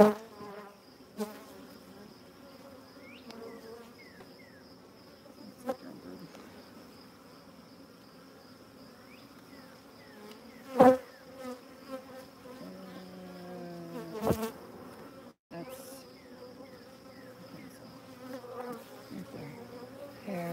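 Honey bees buzz steadily at an open hive, a close, continuous droning hum with individual bees whining past, occasional knocks and thumps from handling the frames, and a faint voice now and then.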